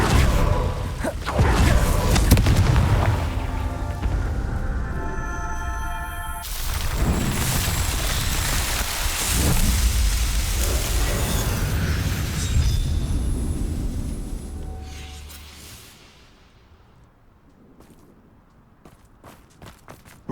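A Confringo blasting spell explosion in Hogwarts Legacy: a loud, sustained roaring blast with a rumbling boom that holds for several seconds and then fades away into near silence, with no talking.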